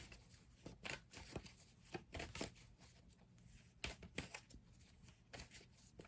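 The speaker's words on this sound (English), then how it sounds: "Shuffling." Tarot cards are riffled in quick, crisp bursts, several shuffles in a row, close and fairly quiet, with no talking.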